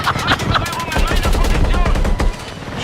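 Sustained automatic gunfire in Battlefield 6 rattles loudly and close in continuous rapid bursts with dense, crackling shots, and someone talks over the shooting.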